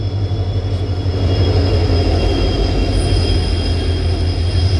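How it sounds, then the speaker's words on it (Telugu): A WDP4 diesel locomotive train arriving, a loud, steady rumble of rolling rail cars with a continuous engine drone and faint high wheel squeal, close by and without talking. "చాలా రోజుల తర్వాత డీజిల్ లో ఒక ట్రైన్ వస్తుంది"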